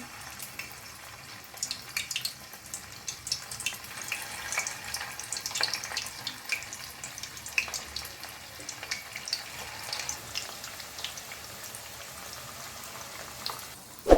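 Cabbage manchurian balls deep frying in hot oil, a steady faint crackle and fizz of bubbling with scattered sharp pops throughout.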